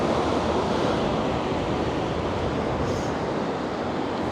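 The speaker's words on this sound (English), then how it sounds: "You can hear the waves now getting choppy." Choppy sea waves stirred by a breeze at Blackpool, a loud continuous wash of surf with wind rumble across the microphone.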